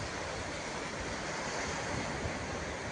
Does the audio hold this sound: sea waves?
yes